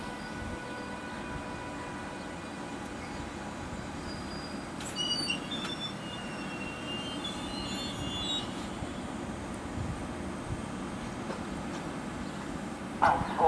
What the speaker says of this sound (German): Aus Zürich fährt der ICN ein und einige Passagiere wechseln die Züge.